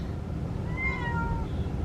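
Two pet cats meow at the vet clinic, waiting for their yearly shots: a single drawn-out, rising-then-falling meow near the middle, heard clearly over a steady low room rumble.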